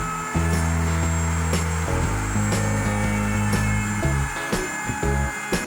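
A router with a 3/8 inch round over bit edges an epoxy vanity top, its loud, steady motor whine holding across the clip with small pitch shifts as the bit cuts.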